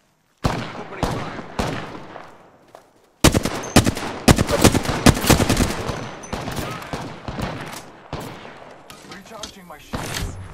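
Bursts of automatic gunfire in the Apex Legends battle royale game, loud and close, opening with a few separated shots before a dense sustained volley, then scattered shots fading out with brief voice callouts between.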